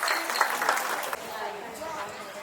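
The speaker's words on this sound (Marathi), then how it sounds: "सर्वांनी टाळ्या वाजून त्याचा अभिनंदन करावे" An audience at a Shiv Jayanti community gathering claps to congratulate a student, a modest round of applause at moderate distance, strongest early and then thinning, with a voice talking over it.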